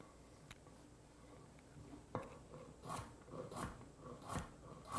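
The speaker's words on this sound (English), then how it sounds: "We're just looking for thin slices of the carrot." A knife slices a carrot into thin slices, a series of quiet crisp cuts in a steady rhythm after a single sharper chop, close and faint with no talk.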